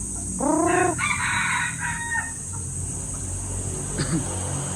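A bantam chicken's crow rings out once, fairly close and clear, followed by a few soft clucks against a quiet outdoor background.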